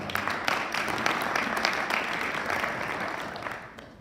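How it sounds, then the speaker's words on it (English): Symposium attendees give sustained applause, a thick, continuous patter of many hands in a hall that holds steady before easing off slightly at the end. "Give him a applause"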